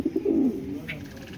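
A foreign racer pigeon gives a single close, throaty coo at the start, then a faint rustle follows.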